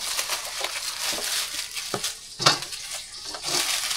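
Eggplant frying in a little oil in a pan gives a soft, continuous crackle and sizzle, with a few brief scrapes and clinks of stirring close by.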